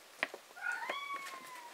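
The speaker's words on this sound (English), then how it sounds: "My cat is angry." An angry cat lets out a drawn-out, rising and falling meow, quiet and fairly close, after a couple of brief soft clicks, with no speech.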